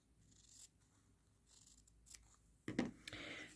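Fabric piece being trimmed with scissors for foundation paper piecing, a few quiet close snips spread out, then a louder burst of handling and cutting near the end.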